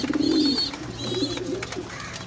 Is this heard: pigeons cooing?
yes